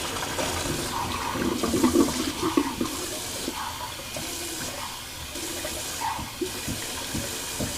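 Water running into a sink while a razor is rinsed, a steady close splashing flow with small clatters and gurgles throughout.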